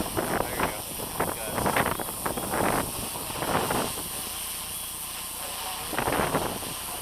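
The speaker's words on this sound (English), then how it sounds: "And that's a lot of wind." Strong wind roaring and buffeting the microphone outdoors near bending palm trees during a high-wind test flight of a Hacker A30-28L-powered drone, a constant loud rush with gusty surges, while people talk over it.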